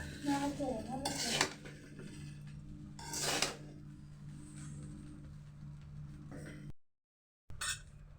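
Fried rice being stirred in a pan with a metal utensil, with a few loud scraping, clinking bursts between quieter stretches of faint stirring, close up and without talking; the sound cuts out briefly near the end.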